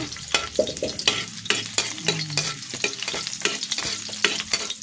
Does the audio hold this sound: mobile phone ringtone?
no